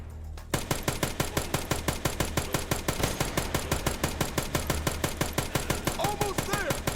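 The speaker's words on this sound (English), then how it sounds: "By hiding behind the pillars on the second floor, we could shoot Carlito without taking any damage" Rapid automatic gunfire while shooting the boss Carlito in Dead Rising Deluxe Remaster, a steady, evenly spaced stream of shots that begins after a brief quiet start and keeps firing.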